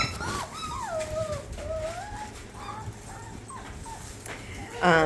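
Young puppies whimper and whine in high, wavering cries, several overlapping calls, close by and moderately loud, while faint background noise and occasional bird-like chirps sit underneath.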